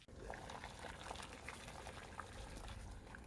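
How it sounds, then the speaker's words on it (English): A bean tamale in its sealed ration pouch simmers in boiling water, giving a steady, close bubbling and rumbling wash with small pops and no voices. "I'm going to boil this in the pouch for about 10 minutes"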